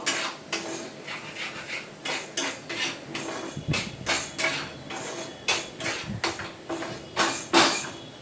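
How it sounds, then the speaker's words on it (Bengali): Spices with coriander powder stirred in a pan, with repeated metallic scrapes and clinks of a spoon against the pan in an uneven rhythm throughout, close and fairly loud. "দিয়ে এবার ভালো করে নাড়বো।"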